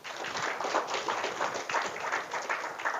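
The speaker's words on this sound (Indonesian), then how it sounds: "Tepuk tangan untuk Pak Andi." A student audience at a university lecture gives Pak Andi a round of applause, a fairly faint, even patter of many hands clapping that continues steadily for a few seconds.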